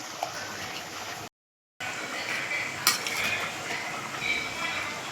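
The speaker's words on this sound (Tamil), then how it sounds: "இப்போ நம்ம கழுவி வச்ச மீன் எல்லாத்தையும் போட்டுக்கலாம்." Washed fish going into a thick, simmering fish curry in a pot, a steady bubbling and stirring bed with soft clinks and splashes, briefly cut to silence partway through.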